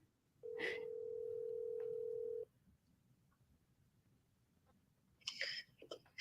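A telephone tone sounds as a call is placed: a steady electronic tone that holds for about two seconds and then stops, followed by a quiet pause and a short burst of clicky, voice-like noise.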